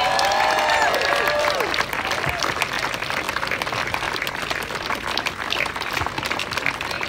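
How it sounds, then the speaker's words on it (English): A crowd at a charity 5k event gives a sustained round of applause and light cheering, dense clapping that follows a few whistles at the start. "Please give them all a huge round of applause."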